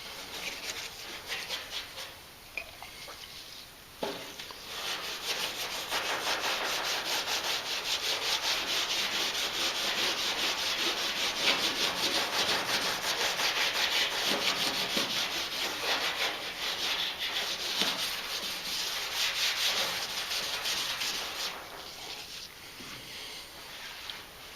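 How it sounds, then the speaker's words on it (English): Steel wool rubs lacquer primer off the metal body of a 1955 Chrysler Windsor during restoration, a steady close scratchy scrubbing that goes on for over twenty seconds in repeated strokes with brief pauses. "So that's lacquer primer and steel wool. I'm using steel wool, and that takes care of it."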